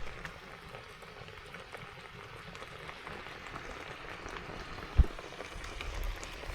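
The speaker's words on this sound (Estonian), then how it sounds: "Mullitab küll hästi, jah, siin praegu." Food cooking in a bag inside a pot of water at a forest campsite, with a steady bubbling, gurgling wash throughout and one sharp knock near the end.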